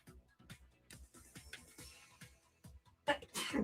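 People talk quietly, then a sudden loud sneeze bursts out near the end.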